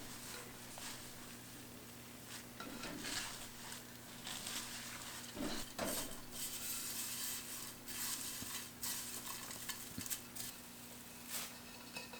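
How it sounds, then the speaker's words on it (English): Hongcha red tea leaves being stir-fried over very low heat until semi-dry, giving a soft, continuous dry rustle with scattered louder scrapes and taps, close and fairly quiet over a steady low hum. "Okay, so now I am going to stir fry the Hongcha."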